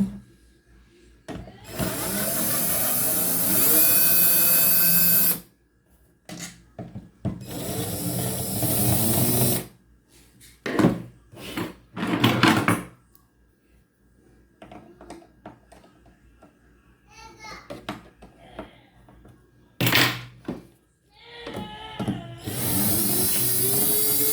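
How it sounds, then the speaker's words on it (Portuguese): A power screwdriver whirs in bursts while removing screws from a Philco Transglobe B481 radio, several loud sustained runs separated by pauses filled with small clicks and handling noises. "Retirados os parafusos."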